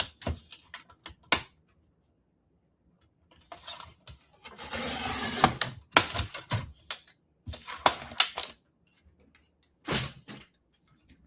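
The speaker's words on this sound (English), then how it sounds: "I do think I'm going to cut this bottom real quick with my paper trimmer to make it as straight as I can" A paper trimmer slicing paper for a handmade stamped card, heard up close as separate rasping and clicking cuts, with short ticks followed by longer scraping strokes and quiet gaps between them.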